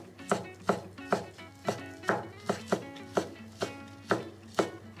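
A knife slices ingredients for mushroom rice on a cutting board in about a dozen crisp, evenly spaced chops, close and clear with no voices.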